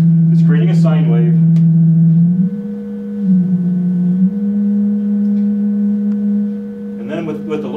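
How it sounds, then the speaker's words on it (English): A synthesizer produces a steady, clean sine wave tone that holds for several seconds, wavering slightly in pitch midway, with brief bursts of speech near the start and end. "It's creating a sine wave."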